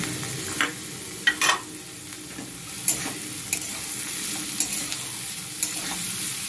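Thinly sliced potatoes fry in hot oil for a mourala fish dish, sizzling steadily while a spatula stirs them with intermittent clicks and scrapes against the pan.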